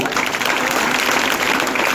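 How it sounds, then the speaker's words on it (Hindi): Loud, dense audience applause fills the whole stretch at a political gathering, steady and sustained with no pause, many hands clapping together close by. "जोरदार तालियां इसके लिए।"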